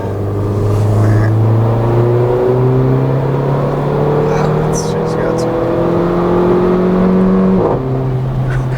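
A 2015 Mercedes-Benz GLA 45 AMG revs hard under acceleration with a steady engine drone that climbs through gears, with a brief shift dip and faint exhaust crackles, heard from inside the cabin under a brief spoken remark.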